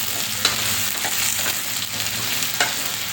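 Jungli karela (kakoda) and onion sabzi frying in a pan while being stirred: a loud, steady sizzle close up, broken by a few sharp scrapes and clinks of the spoon.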